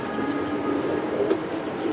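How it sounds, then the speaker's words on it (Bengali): Large pigeons on a farm coo in a low, continuous murmur, close by and fairly steady with no talking over it. "2টা কবুতর ভাই, বিশাল আকৃতির কবুতর"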